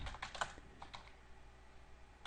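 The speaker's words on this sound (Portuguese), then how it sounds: "Aqui eu estou digitando aspas duplas, né?" Quiet clicks of a computer keyboard while double quotation marks are typed, a few close keystrokes clustered near the start and then fading into faint room noise.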